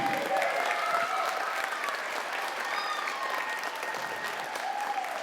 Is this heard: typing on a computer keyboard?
no